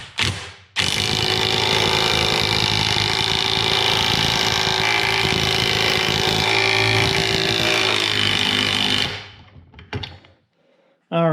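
DeWalt DCF923 20V 3/8-inch cordless impact wrench running loud and close on a bolt for about eight seconds, a steady high whine with rapid hammering impacts, then winding down to near silence.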